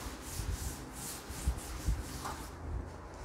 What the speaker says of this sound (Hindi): मैं रब कर रहा हूँ इसे